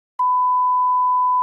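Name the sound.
censor beep added in editing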